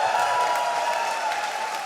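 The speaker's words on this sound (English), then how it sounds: "Biggest cheer of the night for social anxiety." A live comedy show audience cheering and applauding, a dense, sustained wash of clapping and whoops filling the room at steady volume.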